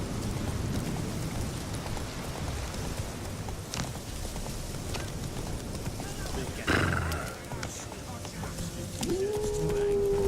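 Roach the horse in The Witcher 3 gallops with a steady rapid clip-clop of hooves, then gives a loud neigh midway, while people talk over the hoofbeats.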